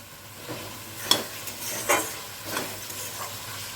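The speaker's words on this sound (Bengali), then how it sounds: "এখানে মশলার সঙ্গে আমি 10 মিনিট একটু ভালো করে কষিয়ে নেব" Potatoes sizzle steadily in a pan with spices while a spoon scrapes and stirs them in slow, repeated strokes, close and moderately loud, with no one talking.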